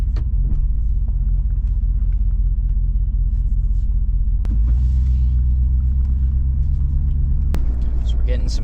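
A car with a 4L60E automatic transmission drives along with a steady low engine rumble, its pitch stepping audibly at two gear shifts, close and continuous throughout.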